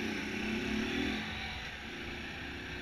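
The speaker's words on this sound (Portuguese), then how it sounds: "Parece que vai explodir o motor, esse motor não." A motorcycle engine revs up in a brief rising whine, then drops back to a lower steady idle, heard fairly faintly with wind noise during a motovlog ride on city streets.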